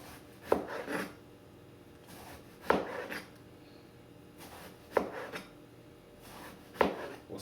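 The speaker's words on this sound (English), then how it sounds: "We'll slice them down" A knife slices through eggplant into quarter-inch pieces, giving four sharp chopping strikes at a steady pace, each followed by a brief scrape on the board, with no speech.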